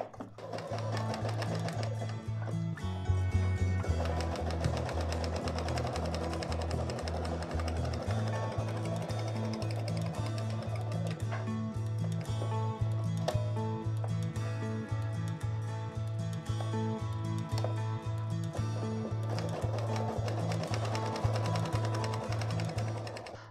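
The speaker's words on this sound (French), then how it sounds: "Et on va faire un point zigzag ou un point de surjet absolument tout autour pour pas que le tissu s'effiloche." A home sewing machine runs a zigzag or overlock stitch all around the edge of fabric for a beginner's zip pouch. The needle gives a steady, fast, close mechanical chatter that carries on almost without a break.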